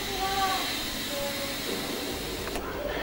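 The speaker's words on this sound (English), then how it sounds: "turn the steam on for 10 seconds and keep the cloth in place" The steam arm of a coffee machine hisses steadily in a restaurant kitchen, a faint, even rush with a few brief tonal squeals, heard alone.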